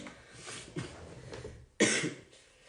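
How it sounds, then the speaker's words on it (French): A few coughs from one person, close and fairly quiet, with a sharper, louder cough near the end. "Je tousse un petit peu puisque j'étais malade pour mon retour de l'Eurovision"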